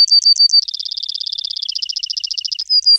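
A sparrow sings alone and close, with loud repeated high chirps that quicken into a fast, even trill and then return to a few separate notes.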